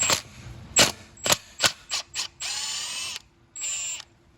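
An impact wrench or power tool works on the bolt of a motorcycle stator wire clamp, giving several short sharp rattling bursts and then two longer whirring runs, close and loud, with no talk.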